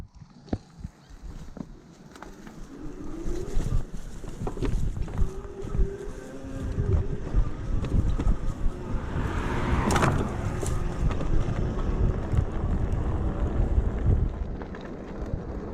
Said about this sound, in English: Man, it's windy out here and cold.